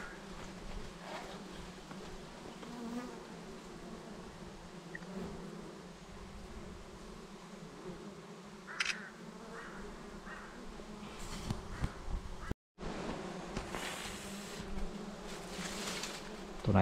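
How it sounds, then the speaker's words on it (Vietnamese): Dwarf honey bees swarm around their nest high in a tree on a mountaintop, a steady, fairly faint buzzing drone that continues throughout, broken by one brief silent gap. "Không thể nào chê vào tổ ong ruồi các bạn này."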